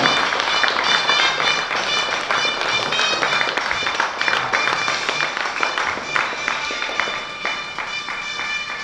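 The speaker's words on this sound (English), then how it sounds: "Round of applause, ladies and gentlemen." Dense, loud applause from a meet-and-greet crowd welcoming Mumbai Indians cricketers Jalaj and Surya Kumar Yadav onto a stage, a steady wash of many hands clapping that holds for the whole stretch with faint voices beneath.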